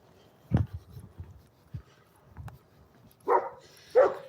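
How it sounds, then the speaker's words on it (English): A dog barks a few times outdoors at night, with short sharp barks spaced apart near the end and softer thuds and rustles before them, moderately near and without speech. "There's a dog there if you can't tell."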